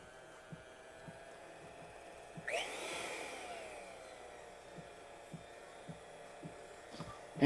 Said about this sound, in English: go ahead and just turn my mixer on